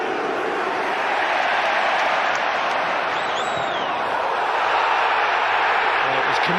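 A football stadium crowd at a Newcastle United versus Manchester United Premier League match reacts to a foul by Rooney with a sustained, loud roar of disapproval, steady throughout with no clear break.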